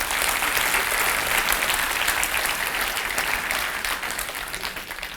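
Sustained applause fills the room at an annual general meeting, many hands clapping evenly for about five seconds before tapering slightly.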